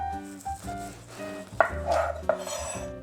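A kitchen knife slices the end off an eggplant on a cutting board. It gives a few sharp, close knocks against the board over steady background music.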